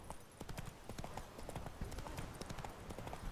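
Geralt's horse Roach trots along in The Witcher 3, a steady, quiet clip-clop of hooves repeating evenly throughout with no other sound over it.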